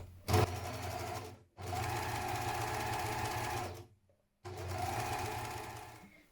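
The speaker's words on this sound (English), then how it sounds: "I'm going to overlock mine" An overlocker runs along the long unnotched edge of a shirt's front facing piece in three steady bursts of close, loud whirring with short pauses between, and no one talks.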